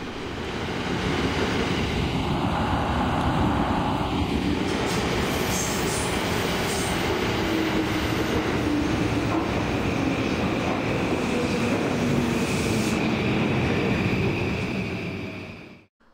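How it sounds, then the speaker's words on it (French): A Tokyo commuter train on the Yamanote line rolls past close by, a loud continuous rumble of wheels on rails with faint squeals and clatter, fading out at the very end. "Ceci, c'est le réseau des trains de banlieue. La ligne Yamanote encercle la ville jour et nuit."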